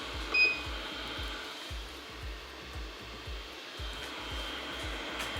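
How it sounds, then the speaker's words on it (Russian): Magnetic stirrers running in a gold refining setup, a steady low motor whir with a faint rhythmic pulsing and one brief beep near the start. "запускаем магнитные мешалки."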